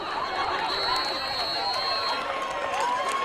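A home crowd at an eight-man football tournament semi-final gives a lively murmur of cheering and chatter, with shrill voices rising over the noise and a commentator speaking.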